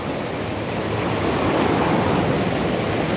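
Swollen Hope River in Gordon Town, St. Andrew, rushing after Hurricane Melissa: a steady, loud roar of churning floodwater, continuous and close, with no voices.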